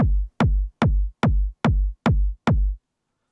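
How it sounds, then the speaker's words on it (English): Seven evenly spaced kick drum hits in a dubby hardgroove techno pattern, each a punchy layered kick with a sharp filtered click on top and a short booming low tail, loud and dry, then silence. "It is a nice punchy kick, but I wanted to add a bit more transient, so I added this second layer."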